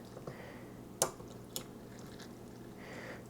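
Fermenting kimchi being pressed down in a jar, giving quiet wet squishes and a couple of sharp little pops as bubbles release, close and faint.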